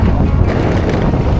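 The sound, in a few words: wind blowing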